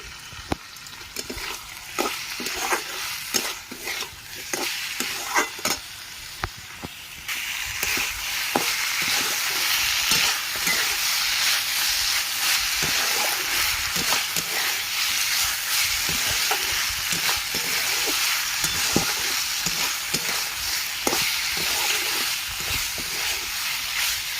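Gima greens fry in a pan with a loud, steady hiss and crackle that runs throughout, and scattered sharp clicks of stirring stand out near the start.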